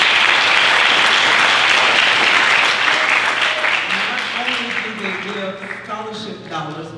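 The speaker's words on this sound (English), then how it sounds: "let's give them and their organization another round of applause" Audience applause at a high school scholarship awards ceremony in Belle Glade, loud and dense at first, then thinning out as a voice begins speaking over the fading clapping.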